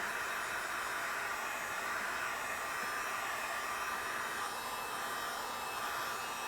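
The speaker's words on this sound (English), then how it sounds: "We're going to grab our hair dryer or heat gun, and we're going to heat the material first." Constant, loud blowing whoosh of a heat gun running steadily to heat material during a speaker install in a BMW E46 3 Series, an unbroken airy roar with a faint whine, no talking.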